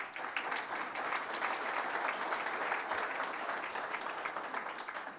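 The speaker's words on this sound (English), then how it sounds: "Please give them a round of applause." An audience at a broadband and innovation summit gives a round of applause, a steady, even wash of many hands clapping that is somewhat distant and moderately quiet, with no talk.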